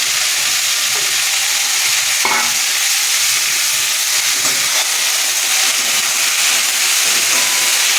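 Fresh mint leaves sauté in a little oil in a pan, giving a loud, steady sizzle and hiss with occasional soft stirring scrapes and no voices.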